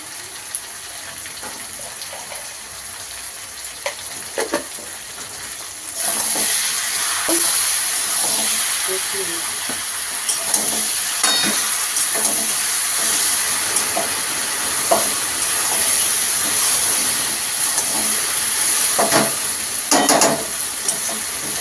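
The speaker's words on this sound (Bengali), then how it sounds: "আলু পটল মশলা দিয়ে কষানো হয়ে গেছে" Potatoes and pointed gourd sautéing in a pan with turmeric, salt and spices, a steady broadband sizzle that jumps louder partway through, with scattered stirring scrapes and clinks on top.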